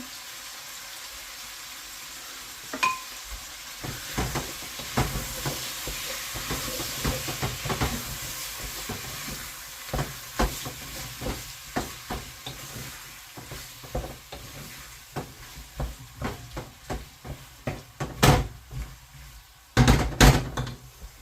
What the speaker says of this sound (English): So give this a stir.